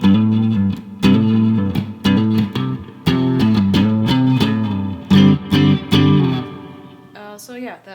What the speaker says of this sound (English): that's a really nice reverb pedal.